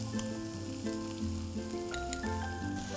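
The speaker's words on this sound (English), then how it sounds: "We are going to saute it well." Green chilies and chopped onions sauteing in hot oil in a pan, a close, steady sizzle and crackle with a few stirring clinks, no voices.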